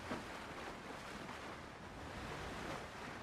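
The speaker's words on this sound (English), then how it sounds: "you're practically at a standstill going over these larger waves" Small boat pushing through large ocean waves in rough archipelago water at about 10 knots, heard as a steady rushing wash of water and wind noise, continuous and fairly loud with no talking.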